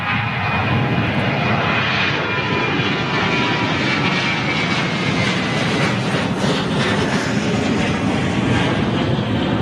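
An airliner with CFM56 jet engines passes low overhead near Birmingham Airport, a loud, steady roar filling the whole stretch with no talking.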